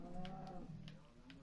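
A cow moos in the video game Minecraft, a low drawn-out bovine call heard faintly and alone, with no talk over it.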